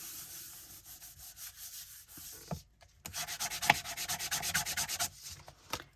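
A paper strip is rubbed flat against a quilt card in steady, close back-and-forth strokes, with a brief pause midway before the scrubbing resumes; no talking.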